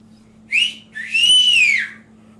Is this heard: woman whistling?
yes